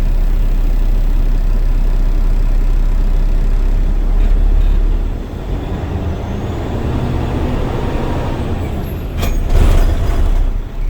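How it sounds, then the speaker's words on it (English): Air brakes on a class A tractor-trailer with an Eaton 10-speed release in a loud, sustained hiss over a steady idling diesel engine, with a sharper burst of air near the end. "Now I'm going to release both my tractor and trailer brake, putting my truck in the first gear"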